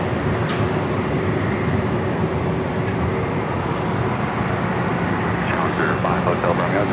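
A jet airliner roars steadily on takeoff at Los Angeles International Airport, a loud continuous broadband rumble with a voice talking over it.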